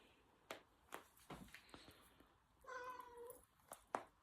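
A house cat meows repeatedly in a quiet room, faint and close, with a longer drawn-out caterwaul in the middle and soft padding footsteps between the calls.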